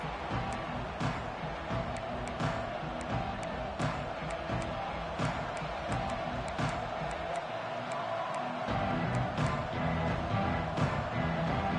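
Stadium crowd at a college football game between Louisville and FSU, a broad sustained roar of many voices with scattered claps and shouts, rising slightly toward the end.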